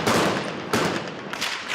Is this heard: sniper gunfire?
yes